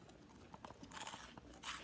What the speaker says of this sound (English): And listen to this crunch.